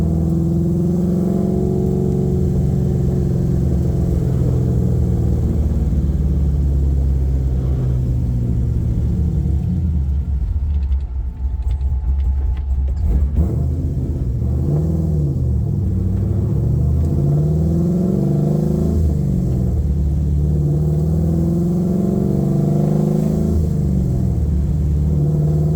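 An LS3-swapped 1969 Camaro with a fully custom exhaust drives along under light throttle, its deep engine rumble steady and loud, with a brief dip and then a gentle rise in revs partway through.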